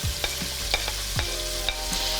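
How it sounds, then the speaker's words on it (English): Andouille sausage sizzling in olive oil in a pot, a continuous close frying hiss with several spoon-stirring scrapes at irregular intervals, no talking. "we have our sausage getting nice and browned. Sizzling away."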